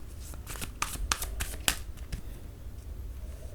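Tarot cards are shuffled close by in a quick series of crisp riffling slaps and flicks over about two seconds, then fade to quiet room tone. No one speaks.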